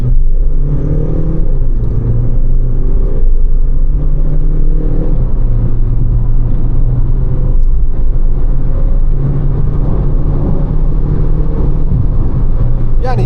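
A Skoda Rapid Spaceback 1.6 TDI diesel accelerates hard under kick-down, its engine drone heard from inside the cabin as a loud, continuous low rumble with tones that step and shift through the gears.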